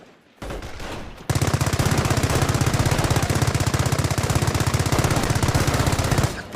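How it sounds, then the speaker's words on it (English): Battle fire from an artillery strike against a German attack in the Company of Heroes video game, heard as a loud, rapid, relentless hammering barrage that starts after a brief quieter lead-in and continues nearly to the end. "Use the artillery strike ability to defeat the German attack."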